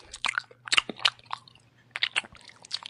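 Loud, wet chewing close to the microphone, in irregular bursts of crunchy, smacking bites with short quiet gaps between them.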